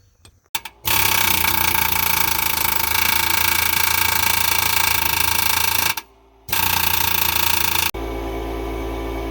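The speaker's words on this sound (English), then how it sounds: "Get the air hammer in there and we'll see if we can get that to crack." Air hammer working on a seized bolt, loud and close, firing in a continuous harsh rattling burst for about five seconds, a brief pause, then another long burst, ending in a lower steady hum.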